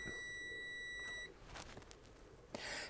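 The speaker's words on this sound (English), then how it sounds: "we can beep it on the board from here" A continuity tester beeps steadily while probing a circuit board during repair of a Commodore CDTV, a single sustained electronic tone that cuts off abruptly, followed by faint handling clicks.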